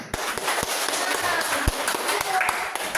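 Students in a school classroom or schoolyard clap in a loose, uneven burst, with sharp individual claps standing out close by while children's voices chatter underneath.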